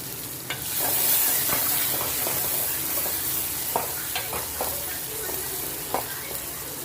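Chopped medium tomato sizzling in hot oil with okra in a pan for a bachelor-style okra fry, with a steady close fry hiss and a series of distinct spoon scrapes and taps as it is stirred.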